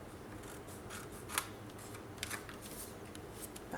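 Scissors snipping paper while trimming a scrapbook pop-up album page, a few short crisp cuts close up over a quiet room background.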